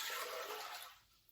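Water pours in a steady rushing stream into a cooking pot while making risotto, loud and close, then tapers off and stops after about a second.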